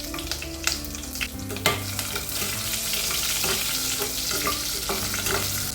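Three slit green chillies frying in hot oil with popped mustard seeds and cumin for a millet khichdi, an even, loud sizzle with a few spatula taps and scrapes, no talking.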